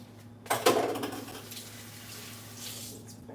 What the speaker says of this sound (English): Rinse my fingers off one more time.